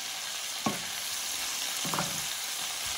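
Mushrooms and garlic sautéing in a home frying pan give a steady close sizzle, with a few soft stirring knocks from a spoon scraping through the pan.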